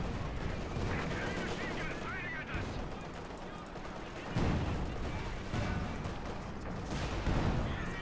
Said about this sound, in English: More shots fired.